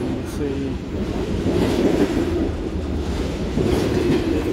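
Steady low rumble of a CSX freight train rolling through a rail yard where cars are pushed back to build trains, with a faint metallic rattle and a voice talking over it.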